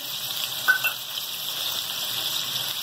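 A soft, steady sizzle of ginger garlic paste frying in a pan for tawa kaleji, with a brief stir or clatter near the start.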